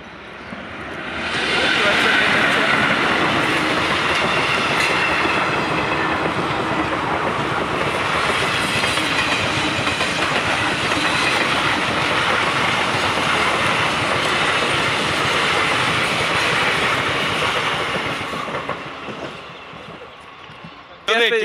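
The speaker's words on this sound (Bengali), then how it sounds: "তো সামনে একটা ট্রেন আসছে" A train rolls past on a railway line outdoors, a loud sustained rumble and clatter that swells in quickly, holds steady for most of the span, then eases off near the end.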